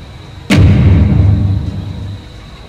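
A single loud gunshot from a soldier firing, sharp crack followed by a long booming rumble that decays over about two seconds, no talking.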